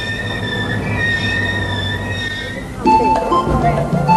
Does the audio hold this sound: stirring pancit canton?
no